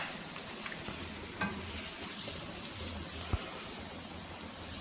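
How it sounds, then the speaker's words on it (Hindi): Chopped onions fry in a masala base for an aloo karela dish, giving a quiet, continuous crackling sizzle with a few soft knocks from stirring. "अभी हमने प्याज को लाइट ब्राउन करना है।"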